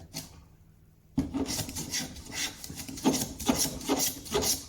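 A hand file rasps against a stained glass frame clamped in a vise, beginning after a quiet second with a steady run of rhythmic back-and-forth strokes, close and fairly loud.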